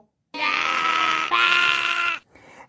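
A sheep gives a loud, drawn-out bleat that wavers in the middle, heard close and alone, followed by a short fainter bleat.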